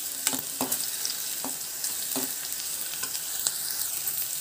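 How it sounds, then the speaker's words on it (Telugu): Ingredients for a pickle chutney fry quietly in a pan with a steady, soft sizzle, broken by occasional clinks and scrapes as they are stirred. "మాడకుండా వేయించుకోవాలి."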